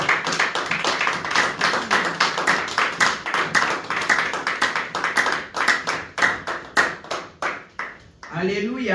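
A church congregation at a French-language service claps in a fast, steady rhythm, loud and close, with voices calling out acclamations over the clapping before it breaks off into a shout.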